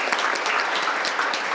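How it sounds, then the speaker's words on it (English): Brief, loud applause from a live panel audience, a close burst of many clapping hands lasting under two seconds with no pause. "Can we give her a round of applause?"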